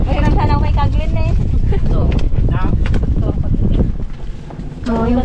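Strong wind buffets the microphone outdoors in a rural provincial setting, a constant loud roaring rush with people talking over it, easing briefly near the end.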